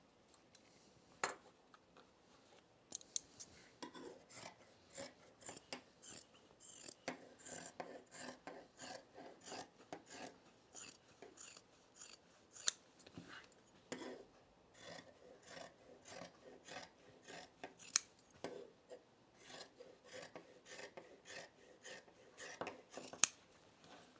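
Fabric scissors cutting out jeans pattern pieces, a long series of crisp, quiet snips and rasping strokes in irregular bursts, close and faint, with no talking.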